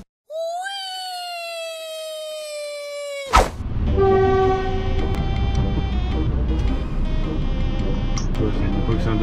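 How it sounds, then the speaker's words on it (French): A locomotive sounds a long, loud horn that cuts off abruptly, followed by a sustained rumble of the stopping engine and rolling stock, near and continuous for several seconds. "Il y a une locomotive qui s'arrête, qui bouge toute la route pour me dire bonjour."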